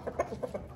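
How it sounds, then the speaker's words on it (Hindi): A rooster clucks nearby, several short soft clucks in quick succession within under a second, close and fairly quiet. "मुर्गा आ गया"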